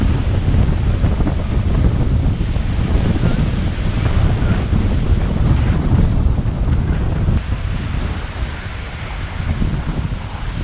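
Surf at Playa Esmeralda beach in Cuba, a continuous loud wash of breaking waves mixed with heavy wind buffeting the microphone, with no talk.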